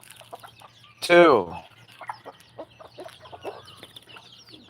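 Chickens at feeding time give one loud squawking cluck burst early on, then softer scattered clucks and chirps. A voice speaks briefly.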